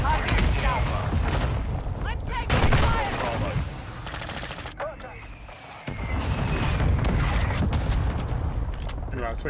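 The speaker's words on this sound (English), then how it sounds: "Friendly mortar strike inbound." Mortar strike explosions and gunfire in Call of Duty 4, dense bursts of blasts and rapid shots with booming impacts, loud and continuous with a brief lull near five seconds, under game voices.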